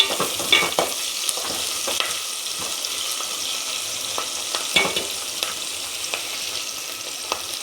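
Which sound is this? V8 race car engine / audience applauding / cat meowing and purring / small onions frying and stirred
small onions frying and stirred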